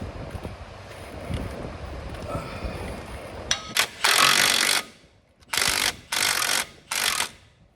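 Ratchet wrench with a socket being worked, heard as bursts of rapid clicking, one short burst then several longer runs with brief pauses, fairly close after a stretch of low background rumble.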